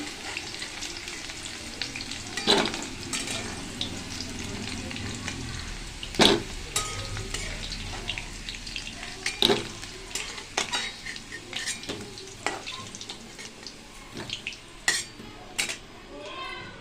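Potatoes browning in hot oil in a pan, a steady sizzle punctuated by sharp clinks of a spatula against metal and occasional stirring, with some talk underneath.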